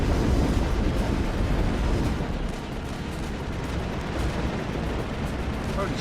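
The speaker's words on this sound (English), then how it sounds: "is that Colossus like shooting at me?" A Colossus geth walker in the Mass Effect video game fires on the player in a dense roar of heavy blasts and rumbling impacts, loud and continuous throughout.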